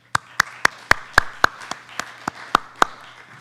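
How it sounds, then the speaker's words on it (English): A single person claps slowly and steadily, about a dozen sharp, evenly spaced claps, close and clear against a quiet background at a National Honor Society induction. "Please give yourselves a round of applause."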